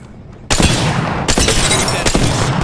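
Gunfire in a shooter video game erupts abruptly and keeps going as a dense, loud burst of shots with brief sharp spikes, filling the rest of the short stretch with no talk over it.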